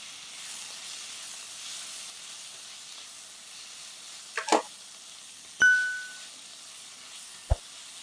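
Onion and tomato are sautéed with rock salt in a pan, giving a faint, steady sizzle with a few light clinks and taps of a utensil against the pan.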